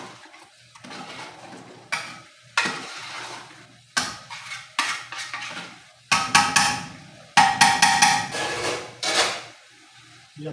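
Goat karahi meat with spices is stirred in a pan, giving a series of loud, separate metallic scrapes and clanks. The bursts come in irregular clusters with short pauses between them, and no one talks.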